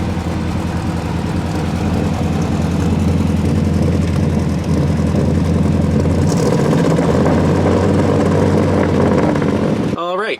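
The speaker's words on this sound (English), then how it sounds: "I'm just gonna start it up and leave my foot on the accelerator so that it will stay running" A carbureted truck engine that won't idle runs at a steady, loud drone, held running by the accelerator, with a low rumbling tone throughout before it ends abruptly.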